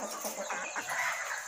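KUB improved native chickens cluck in a steady, busy chorus of overlapping short calls over a constant hiss of farm background noise.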